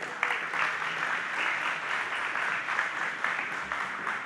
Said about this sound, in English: Council President Shannon Harding, please give him a round of applause.